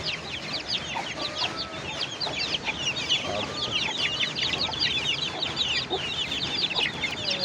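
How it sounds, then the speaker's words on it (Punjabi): Chickens cluck and chatter repeatedly in a lively, overlapping stream, close by, over a low background murmur, in Amritsar. "ਬਹੁਤ ਚੰਗੀ ਮੁਰਗੀ ਆ"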